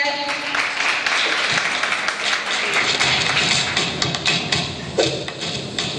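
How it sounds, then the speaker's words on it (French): A crowd applauds steadily, a dense wash of many hands clapping that holds for several seconds at fairly close range. "Monsieur Guifo, sous vos applaudissements, s'il vous plaît."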